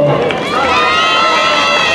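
A crowd at a town's patron saint festival cheers and shouts loudly, a continuous roar of voices with children's high shouts mixed in, close and sustained over the whole moment.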